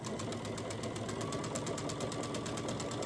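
A sewing machine runs steadily while stitching quilt pieces together with a quarter-inch seam for a disappearing hourglass block, a continuous close, even mechanical whir with a rapid regular pulse throughout.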